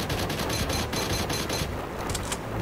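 Rapid arcade gunfire from the 1993 light-gun game Alien 3: The Gun, a dense and continuous stream of loud electronic shots and blasts that carries through the whole stretch with no talking.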